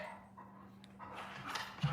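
Guard dog whining and giving a short bark, moderately close, over a steady low hum with no talk.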